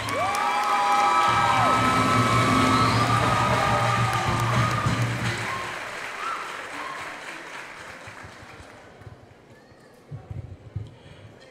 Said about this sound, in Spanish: Y damos un fuerte aplauso a la consejería del duodécimo